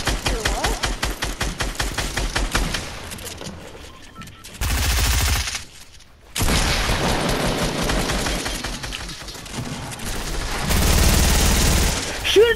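Fortnite gunfire, with bursts of rapid automatic shots and loud, dense volleys. A short gap falls midway, then heavy firing resumes, close and harsh with game effects.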